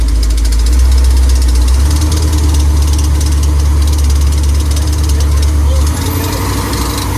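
A 4x4 van's engine running after a transmission and transfer case install, a loud, close, steady low rumble with a slight shift in tone near the end.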